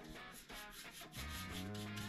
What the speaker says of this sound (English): I'm gonna paint this wood